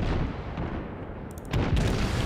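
German cruiser guns firing in World of Warships, heavy booming blasts with rumbling low-end tails, one salvo and then another about halfway through, loud and close.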